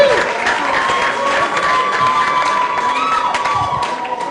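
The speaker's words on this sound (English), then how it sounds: "Keep clapping until he gets here." Audience applause and cheering at Gotham Comedy Club, with whoops and shouts over steady clapping that fills the room, loud and continuous throughout.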